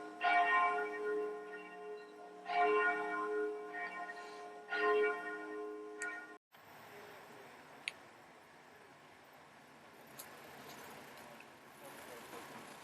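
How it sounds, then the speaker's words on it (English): Church bells ring in Krakow's old town, several loud, resonant strikes spaced a few seconds apart over the first half, then fading into quieter outdoor street ambience. "But bells."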